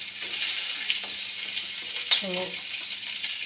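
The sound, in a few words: frying rice with beans in a pan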